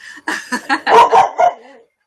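A dog barks in a quick series of close, loud yips and woofs from a dock at a passing boat, the barks bunched together before trailing off into silence.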